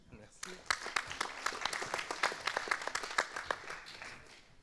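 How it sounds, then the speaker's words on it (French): An audience at a French startup contest in Lorient claps for a speaker walking onto the stage. The claps are scattered and fairly sparse, quiet and somewhat distant, and run for several seconds. "On l'applaudit."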